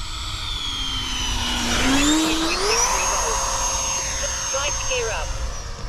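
A Freewing F/A-18 Hornet 90mm electric ducted-fan RC jet on landing approach whines steadily, its pitch sliding down and back up as the throttle is worked, a continuous airy rush close by.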